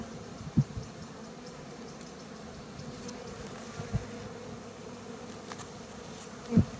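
Honeybees at an open hive during a Varroa treatment give a steady, low insect hum, fairly faint and close, broken by a few soft clicks and knocks.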